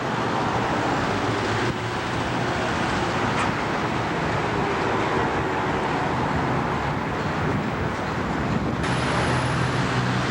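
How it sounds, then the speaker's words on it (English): Steady roar of city traffic, cars and buses passing continuously at close range, with no voices, a dense unbroken wash of road noise. "You can hear the sounds of traffic behind me"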